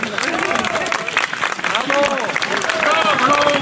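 An audience at a Special Olympics event claps for the organizers, with scattered applause running under a man's ongoing speech.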